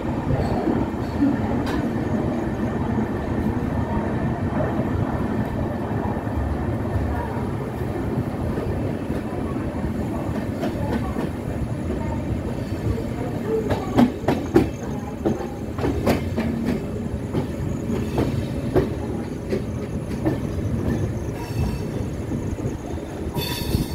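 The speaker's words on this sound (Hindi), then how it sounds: "छोटा सा पैरेलल डिपार्चर हो रहा है हमारी ट्रेन का मुंबई एलटीटी जयनगर एक्सप्रेस के साथ।" Indian Railways express train running at steady speed, with continuous rumbling wheel and carriage noise and some clickety-clack jolts on the rails, heard from inside the coach with a few sharper clatters midway.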